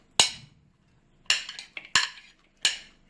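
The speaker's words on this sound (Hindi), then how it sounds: "तो यहाँ पे हमने एक मिक्सिंग बोल ले लिया है और इसमें हमने राजमा डाल दिया है और इसमें हम डालेंगे अपना प्याज" Chopped onion and kidney beans tipped into a mixing bowl for a rajma salad: four distinct clinks and knocks of a utensil against the bowl, close and evenly spaced, with no speech.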